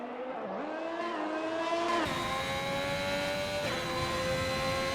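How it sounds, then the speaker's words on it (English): A racing video game's Alfa Romeo race car holds a steady, rising engine whine through a final corner, one clear upshift-like jump partway and a slight dip later, loud and continuous with no talking. "Around the final corner, the Alfa Romeo goes."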